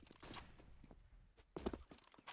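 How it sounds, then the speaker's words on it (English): Footsteps in the Counter-Strike video game during a professional esports match, a few faint soft thuds with a sharper cluster of steps near the end, heard alone with no talk. "heard those footsteps to mid"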